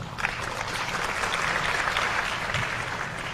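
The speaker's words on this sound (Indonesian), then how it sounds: "Tepuk tangan dulu." Steady applause from an audience, a dense wash of many hands clapping continuously for a few seconds with no talking.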